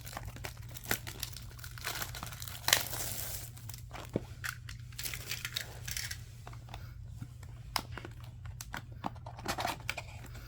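A Yu-Gi-Oh card pack, Darkwing Blast, has its foil wrapper torn open and crinkled close by, giving a steady run of soft crackling and rustling with a few sharper tearing snaps, no voices.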